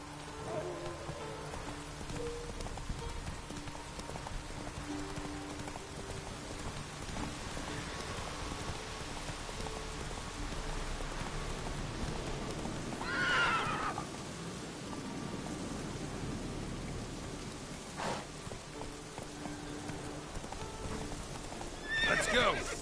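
Horse hooves clip-clopping through steady rain in The Witcher 3, with a sharp whinny partway through and another near the end, over a constant patter of raindrops and low ambient music.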